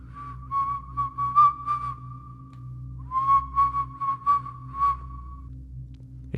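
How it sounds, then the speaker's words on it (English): Clear, tuneful human whistling in a night-time ghost-story setting at 3 a.m., two wavering melodic phrases separated by a short pause, fairly close over a low steady hum. "we heard the whistling"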